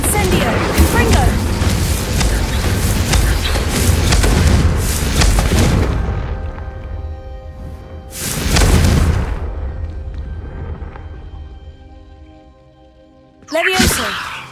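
Confringo and Incendio fire spell blasts in the Hogwarts Legacy video game: a sustained roaring burst, then a second booming blast that fades out, and a sharp whooshing hit at the end.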